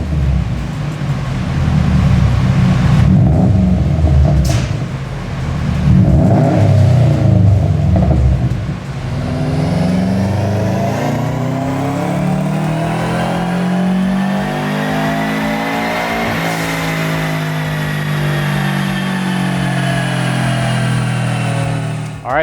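A Subaru WRX fitted with an HKS exhaust revs hard and close up, the engine note rising and holding in a steady drone, with no talking.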